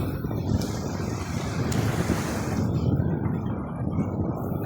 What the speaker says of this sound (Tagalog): Mahangin kasi dito.